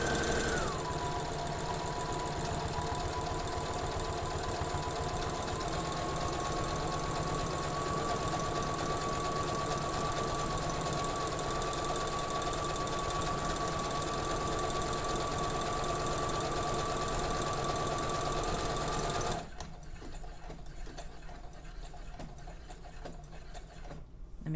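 A sewing machine stitches a buttonhole, running with a continuous fast mechanical whir and rapid needle knocking, close and steady for about twenty seconds before it stops on its own, leaving only faint room noise.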